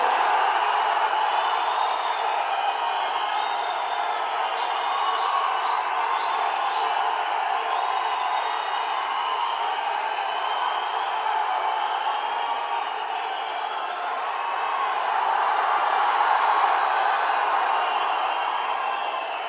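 A large rally crowd in Coimbatore cheers and applauds steadily for Vijay's political speech, a dense unbroken wash of clapping and whoops with faint voices underneath.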